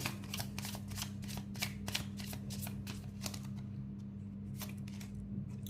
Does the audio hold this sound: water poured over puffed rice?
no